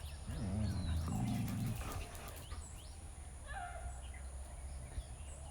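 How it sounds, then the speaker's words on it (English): Excitable pet dogs in a home let out a short burst of whining, yelping noise early on, loud and close, then settle into a quieter room hum. "The dogs are gonna get a little rambunctious"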